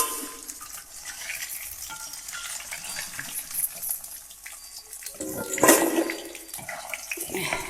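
Bafle being turned over in hot oil on a wood-fired stove, with a broad crackling sizzle running throughout and a louder rattling burst near the end, close and fairly loud.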